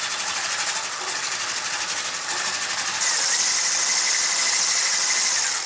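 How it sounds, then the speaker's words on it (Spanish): Electric mixer whipping cream at medium speed for a no-bake lemon tart, giving a steady high whirring buzz that brightens and grows slightly louder about halfway through, with no voices. "Y ahora voy a batir a una velocidad media hasta que esté firme y se formen surcos, pero poco profundos."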